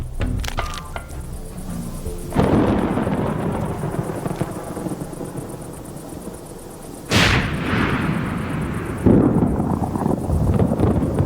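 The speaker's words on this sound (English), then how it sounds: "the tropical summer is still warm and brings massive thunderstorms" Massive tropical thunderstorm with loud, rolling thunder: deep rumbling peals and sharp cracking claps, a heavy crash near the start, another sudden crack partway through and a third burst near the end, over a steady wash of rain.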